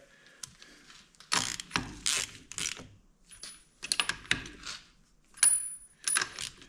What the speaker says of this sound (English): Put the spark plugs in. Gotta tighten them up yet.